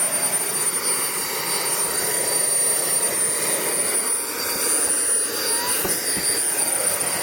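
Small jet turbine engine of an Aerotrain model running at an outdoor stand, a loud continuous roar with a thin high whine held steady throughout, close by and alone.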